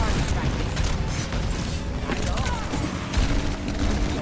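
Sombra's rapid gunfire in Overwatch 2 rattles along in a dense, steady burst with a couple of heavier impacts mixed into busy game noise throughout.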